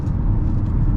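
A 2024 Kia Seltos with a 2-liter engine cruises a Southern California freeway at 68 mph, giving a loud, steady low rumble of engine and tire noise heard from inside the cabin.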